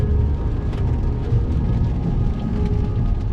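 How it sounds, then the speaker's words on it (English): Synthetic exhaust note from a 2021 Acura TLX A-Spec, played through the cabin speakers while driving in rain: a steady, dense low drone with road rumble, continuous and fairly loud with no talking. "It's just exhaust note being pumped through the speakers"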